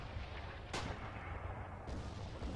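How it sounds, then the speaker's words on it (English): Distant booms of mortar fire in the WWII shooter game Red Orchestra 2, sounding as a dull, muffled impact or two over steady battlefield rumble with no talking. "What's wrong with the mortar?"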